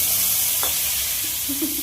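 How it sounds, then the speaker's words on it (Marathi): Red chilli powder, turmeric and ground spices fry in hot oil for a drumstick (shevga) masala curry: a steady close sizzle with a couple of brief stirring scrapes and no talking. "नंतर तेल घेतलं, त्यामध्ये मसाले टाकले, लाल तिखट,"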